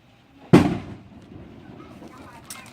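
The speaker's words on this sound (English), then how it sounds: "Got fireworks going on." A single loud firework bang bursts out at close range, followed by a decaying rumble and a fainter pop near the end, heard from indoors at night while bearings are fitted on a GY6 scooter engine.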